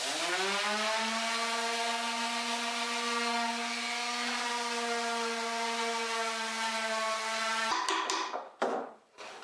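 A power sander working the inside edges of wooden drawer parts, a loud steady whirring hum that holds for several seconds, then falters and stops with scraping noises at the end.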